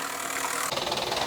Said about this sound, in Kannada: ಗಾಡಿ ಹಚ್ತಾ ಇದ್ದೀವಿ ಮ್ಯಾಟ್ ಮೇಲೆ